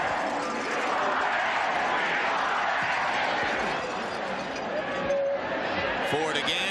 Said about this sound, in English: Texas Tech crowd still making some noise here.